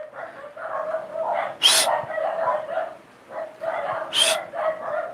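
Dogs barking at home, a run of repeated close, loud barks and yips in quick succession with short pauses between bursts.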